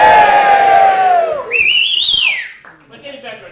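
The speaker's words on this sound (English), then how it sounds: "we want another cheer for the Edge Fun Party" A crowd cheers at the Edge Fund launch night, a loud indoor burst of shouting and whistling that swells and then trails away.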